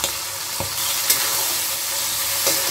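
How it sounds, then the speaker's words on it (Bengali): Whole spices such as cardamom frying in hot oil in a pan for basanti pulao, with a steady crackling sizzle and a few soft scrapes of stirring, close and continuous. "সবগুলো সব একটু ভেজে নেব।"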